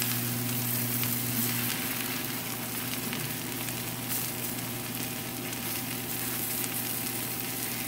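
A leftover egg fries in a hot pan, giving a steady, close sizzle that crackles on without pause, with a faint low hum running underneath.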